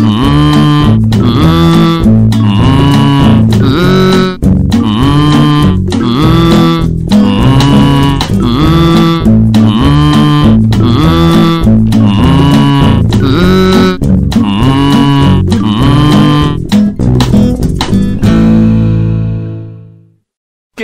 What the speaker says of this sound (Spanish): Hagamos una canción con el mugido de las vacas.